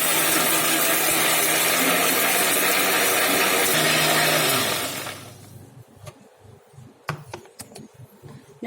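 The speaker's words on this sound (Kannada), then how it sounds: "ಇದಿಷ್ಟು ಹಾಕಿ ರುಬ್ಕೋಬೇಕು ಈಗ ಮಸಾಲವ" A mixer grinder whirs loudly as it grinds masala with curry leaves, a steady high-pitched motor roar for several seconds before winding down, followed by a few clinks and knocks of the jar.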